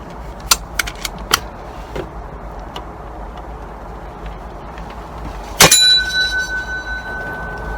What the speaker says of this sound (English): Let's see if the vibration of the bell will release it.